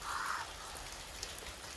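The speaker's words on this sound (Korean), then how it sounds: "비가 오네, 비가 온다." Rain falls steadily as a soft, faint, continuous hiss of drops, with no speech over it.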